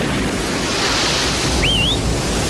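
Ocean surf breaks steadily in a loud, continuous wash of waves on a windy surfing beach, with buffeting wind noise and no talking.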